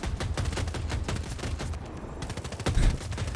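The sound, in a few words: 30mm cannon firing in Battlefield 2042 video game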